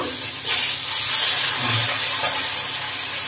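Fish fries in hot oil with a steady, loud, close hissing sizzle that carries on without pause and with no talk over it.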